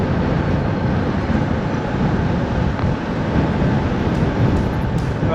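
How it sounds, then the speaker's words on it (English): Strong wind buffets a cyclist's microphone on a bikepacking ride, a loud, continuous rumbling roar that never lets up. "that wind's trying to blow me into the rail"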